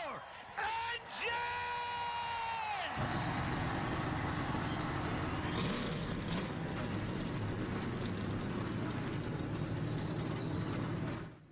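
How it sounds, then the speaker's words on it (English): A field of stock car engines fires up together on pit road at Watkins Glen, swelling into a loud, continuous roar right after a voice shouts the command, and the roar holds steady to the end. "Drivers, start your engines!"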